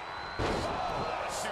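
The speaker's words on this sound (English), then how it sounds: "Choke slam." A chokeslam lands in the wrestling video game WWE 2K22, a single heavy thud against the mat followed by a brief crowd swell, with game commentary talking over it.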